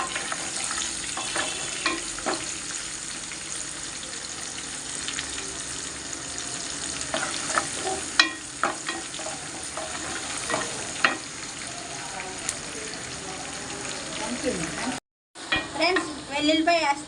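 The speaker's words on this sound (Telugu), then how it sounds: "కొద్దిగా ఉల్లిపాయలు వేస్తున్నాను ఫ్రెండ్స్." Onions sizzling and frying in a pan with curry leaves, a steady hiss broken by scraping stirs, close by, with a brief silent gap near the end.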